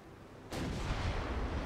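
A warship's main gun fires once in Ultimate Admiral: Dreadnoughts, a sudden loud boom followed by a sustained broad roar that does not fade.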